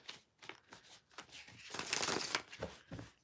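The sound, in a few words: shuffling old playing cards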